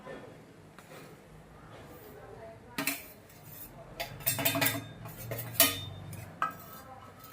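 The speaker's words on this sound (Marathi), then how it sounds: "आता आपण हे तिळगुळाचं मिश्रण त्या तुपामध्ये मिक्स करून घेऊया" A spoon stirs a sesame and jaggery mixture into ghee in a pan, producing intermittent metallic scrapes and clinks that grow busier partway through, with a voice speaking.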